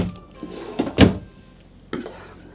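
Cabinet drawers on a Sporttrek 292VBH bunkhouse travel trailer give a few soft, close thunks as they open and shut, the loudest near the middle and another a second later, in a quiet interior.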